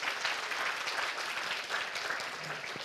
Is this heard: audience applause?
yes